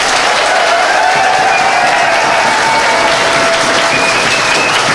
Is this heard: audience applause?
yes